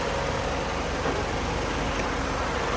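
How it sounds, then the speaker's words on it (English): A steady, dense whirring hum runs continuously without change: a new engine cooling fan on a 2005 Chrysler PT Cruiser running close by. "You can hear that fan running, that new fan."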